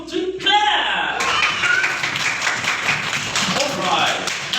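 Hands clapping in an English vocabulary lesson, a quick burst of claps following a spoken count from a teacher, with talk continuing over the brief patter.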